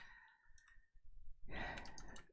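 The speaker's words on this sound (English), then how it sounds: "Yeah, I got a noisy keyboard." A noisy computer keyboard clatters during a Toontown Rewritten play session, a close burst of rapid clicking keys that grows denser and louder in the second half, with a breath or sigh heard early on.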